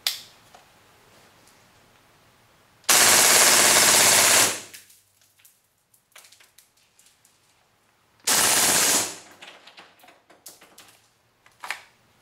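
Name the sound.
AST KWA Kriss Vector airsoft gun firing full auto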